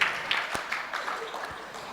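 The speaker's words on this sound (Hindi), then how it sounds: "बहुत सुंदर उत्तर, तालियों के माध्यम से स्वागत करेंगे" A short burst of audience applause welcoming a good answer at a religious discourse session, a brief scatter of claps that quickly fades within about two seconds.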